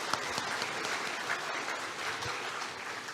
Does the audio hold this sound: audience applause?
yes